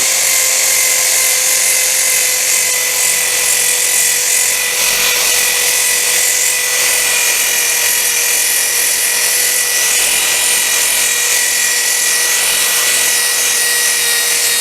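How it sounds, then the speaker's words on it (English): A wooden chair being power-sanded, giving a steady, high, whining rasp that runs unbroken and fairly loud for the whole stretch with no talking. "Let's get to sanding that other chair."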